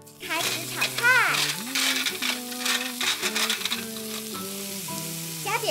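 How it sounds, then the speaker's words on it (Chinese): Vegetables stir-fry in a wok with a bright crackling sizzle and occasional stirring scrapes, heard under a child's chatter that runs through most of it. "开始炒菜"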